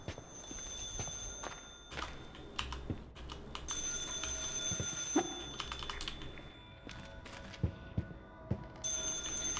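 A telephone rings in the horror video game Stygian: Outer Gods, with bright repeated ring bursts over a steady ambient drone, mixed with clicking footsteps and taps.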